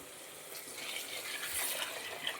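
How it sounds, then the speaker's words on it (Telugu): A steady, gushing stream of water, five glasses' worth, pours into a cooking pot for wheat rava pulao, its hissing splash rising slightly and holding for a couple of seconds. "కాబట్టి 5 గ్లాసుల వాటర్ అయితే పోస్తున్నాను"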